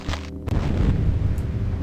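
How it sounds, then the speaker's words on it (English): Flask explodes in Ultima 8: Pagan with a loud burst, then a sustained low, rumbling roar that fills the rest of the moment, alone with no talk. "the explosions from those flasks are far more impressive"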